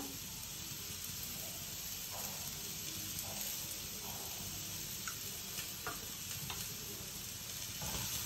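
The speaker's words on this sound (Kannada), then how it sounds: "ಹೀರೆಕಾಯಿ ಹಾಕ್ತಾಯಿದ್ದೀನಿ. ಸ್ವಲ್ಪ ಎಣ್ಣೆ ಹಾಕೋಣ." Ridge gourd frying in oil in a pan gives a steady, quiet sizzle with soft stirring scrapes and small crackles scattered through it, and no one speaks.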